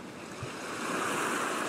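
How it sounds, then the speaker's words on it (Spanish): Sea waves wash onto a shore in a steady, broad roar that swells slightly louder toward the end, with no voices over it. "Escuchas sonidos del mar."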